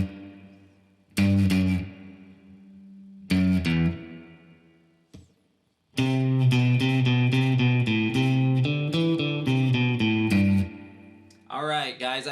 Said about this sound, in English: So when it starts out at the beginning, it sounds like this.